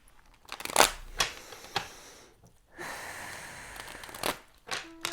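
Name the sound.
shuffling cards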